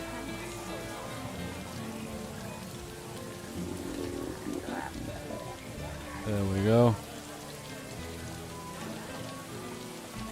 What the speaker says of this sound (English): a light rain outside.